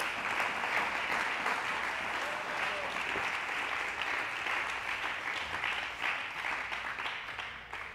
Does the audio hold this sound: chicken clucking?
no